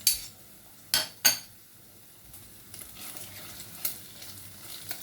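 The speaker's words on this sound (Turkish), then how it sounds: "Etle birlikte salçam kavrulsun" Meat fries in a pan with hot pepper paste mixed with tomato, opening with three sharp metallic clanks of a utensil before settling into a soft, steady sizzle with faint scraping.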